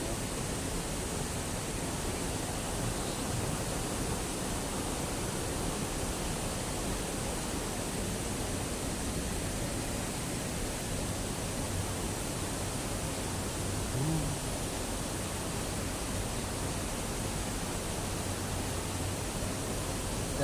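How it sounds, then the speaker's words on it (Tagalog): Antipolo Falls at Cerca Resort in Indang, Cavite, a steady broad rush of falling water, constant and moderately loud with no voices. "Yan, dito pa rin tayo sa Antipolo Falls."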